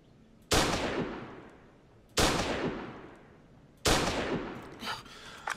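Three loud single gunshots in the video game Hold Your Own, spaced a little under two seconds apart, each a sharp crack whose echo trails off slowly.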